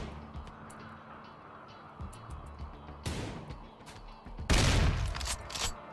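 Gunfire in RimWorld colony combat: several sharp, scattered shots and bursts at moderate distance, with a louder crack about halfway through and a heavier, booming volley near the end.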